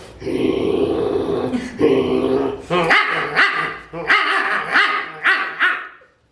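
A human voice imitates a dog fight, with loud snarling growls followed by a run of sharp barks and yips, close and alone.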